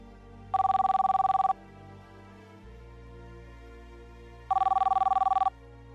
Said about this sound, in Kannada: ಆರ್ತಿ, 1 ನಿಮಿಷ, ಫೋನ್ ಯಾರ್ದು ಅಂತ ನೋಡಿಕೊಂಡು ನಿನ್ನ ಜೊತೆ ಬರ್ತೀನಿ.